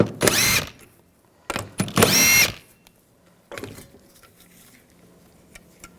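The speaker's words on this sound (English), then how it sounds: "You want to use a 10mm socket. I'm going to take those out." A power tool with a 10mm socket backs out valve cover studs on a 2014-2018 GMC Sierra 1500 5.3L V8, giving three short, loud, close whirring bursts separated by quiet pauses and light clicks.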